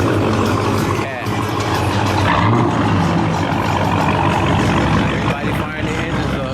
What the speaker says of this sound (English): Everybody firing their engines up.